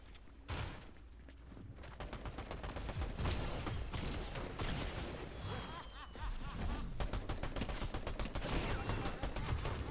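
Rapid bursts of gunfire in the video game Fortnite, Simpsons season, with sustained automatic fire and scattered shots rattling continuously for most of the clip, loud and close.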